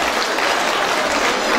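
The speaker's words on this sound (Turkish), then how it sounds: "Hürşit Bekaroğlu Bey'i de bir şöyle alkışlarsak hep beraber" An audience applauds at a Turkish political breakfast event for women from Giresun, a dense, steady clapping that fills the room without pause and without speech.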